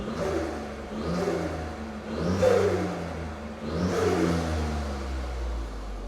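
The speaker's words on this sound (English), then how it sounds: "So now what I'll do is I'll rev it" A Ford Fiesta ST MK8 with a Scorpion exhaust, valve open, revs three times in rising, throaty surges that fall back to a rumbling idle between them, fairly close and loud.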